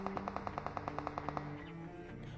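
Rapid automatic fire from a Bizon in the video game PUBG, a quick, evenly spaced burst of about a dozen sharp shots at moderate distance, then fading into faint background tones, no talk.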